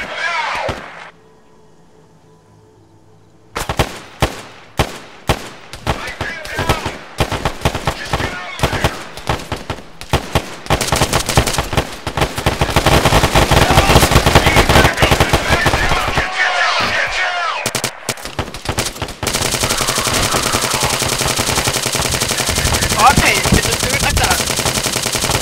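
Dense gunfire in the military shooter game Arma 3: after a quiet start, rapid cracking shots build into sustained automatic bursts, loud and continuous, with brief lulls and a steady roar near the end, voices faintly mixed in.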